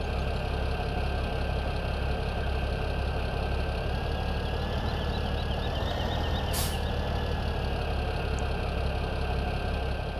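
A farm tractor engine idles steadily in Farming Simulator 17, a continuous low mechanical drone holding even and close throughout, with a brief hiss partway through.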